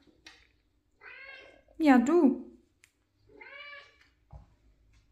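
A young house cat meows repeatedly: several drawn-out cries, one loud and rising in the middle, separated by short silences, close by, with a person briefly speaking near the end.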